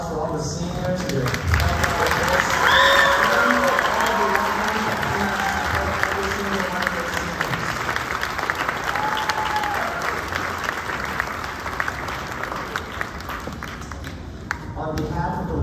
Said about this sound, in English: just one more round of applause for all the seniors here.